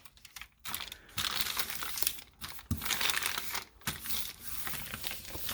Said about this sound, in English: I'm rattling paper.